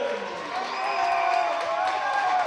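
A crowd at a men's college basketball game, Elgin Community College against Lorain County CC, cheers and applauds in a gym, swelling into a sustained roar with whoops, heard alone without talk.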